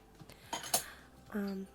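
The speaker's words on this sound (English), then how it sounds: "putting clean dishes away, and then washing dirty dishes" Dishes and cutlery being put away in a home kitchen during a morning cleanup, with a few light clinks and knocks of plates and utensils, then a brief sustained ringing clatter near the end.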